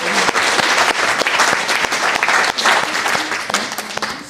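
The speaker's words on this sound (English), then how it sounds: "But Lorna, let's raise a round of applause at Women Are Meant to Celebrate." Audience at a conference event applauds, with dense, sustained clapping throughout that stays loud and close.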